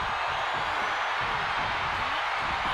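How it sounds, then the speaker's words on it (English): Arena crowd noise at WrestleMania 41 in the WWE 2K25 video game, a dense, continuous roar of cheering that fills the space evenly without breaks. "What a raucous crowd here tonight."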